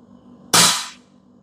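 A single sharp air rifle shot cracks out alone in a quiet room, a sudden loud burst that fades quickly.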